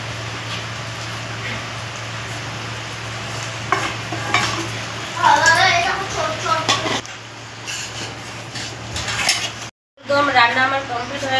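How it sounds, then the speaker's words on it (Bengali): Fried potatoes go into a boiling potato gravy in a pan and get stirred, with metal spoon scrapes and clinks against the pot over a steady bubbling sizzle and a low hum. "ঝোলটা ফুটে গেছে, এবার আমি ভেজে রাখা আলুগুলো ঝোলের মধ্যে দিয়ে দেবো।"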